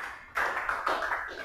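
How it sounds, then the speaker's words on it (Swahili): Pupils in a classroom break into short, sudden applause for a classmate, a close burst of clapping that lasts just over a second before fading. "Makofi kwake."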